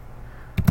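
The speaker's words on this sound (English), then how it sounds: "we just start typing in the data" Data being typed on a computer keyboard in a spreadsheet data view, a couple of quick, close keystroke clicks after a quiet pause.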